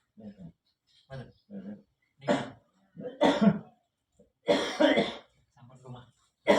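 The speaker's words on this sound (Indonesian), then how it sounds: "Batuk." A man with a ten-day cough coughs and clears his throat repeatedly in short harsh bursts, close and distinct, between spoken words in a quiet room.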